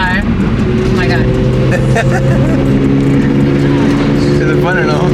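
BMW M3 engine droning loudly from inside the car while drifting, a constant sustained roar with shifting tone, and people talking and exclaiming over it.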